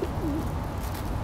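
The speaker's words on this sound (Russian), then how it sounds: "Вон и голубь." A pigeon gives a short, soft coo outdoors near squirrel feeders, a single brief call over low background rumble.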